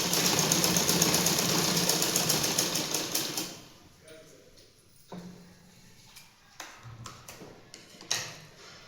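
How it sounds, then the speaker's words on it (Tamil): A sewing machine stitches elastic onto underwear in quarter-inch runs, a dense rapid mechanical whir that runs steadily for about three seconds then stops, followed by sparse quieter clicks and handling noises close to the microphone. "அதே மாதிரி 1/4 இன்ச்சு விட்டு மறுபடியும் 1/4 இன்ச்சு நம்ம தைக்கிறோம்."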